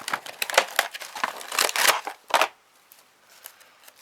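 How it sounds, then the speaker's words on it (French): Plastic wrapping on a package of Christmas chocolates crinkles and rustles in a rapid, close series of crackling bursts over about two seconds, then a few fainter rustles after a pause; no talking. "il faut que j'ouvre mon deuxième paquet"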